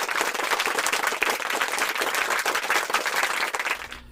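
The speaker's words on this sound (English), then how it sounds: "a round of applause for these folks" A room full of people gives a dense, steady round of applause that holds for about four seconds and cuts off abruptly at the end.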